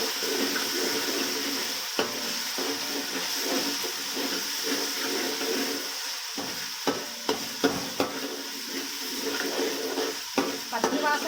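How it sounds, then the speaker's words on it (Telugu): Ginger garlic paste fries in oil for a biryani, a constant crackling sizzle up close, broken by sharp clacks and scrapes of a spoon against the pot as it is stirred, with no speech. "మనము అల్లం వెల్లుల్లి పేస్ట్ అనేది బాగా ఫ్రై చేసాము ఆయిల్లో"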